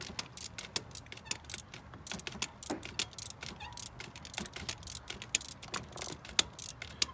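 Ratchet clicking steadily while breaking loose a spark plug on a 2008 Chevrolet Silverado with the 4.8 engine, a rapid run of sharp close ticks with a few louder snaps, no talking.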